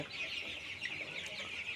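Calabar chicken chicks about 23 days old cluck and chirp in a continuous high twittering chorus, close and steady, with no talking.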